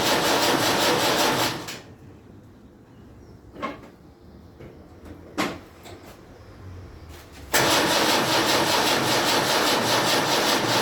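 A Land Rover Series 3 engine is cranked over without starting, two long stretches of loud, steady churning separated by a quiet gap with a few faint clunks.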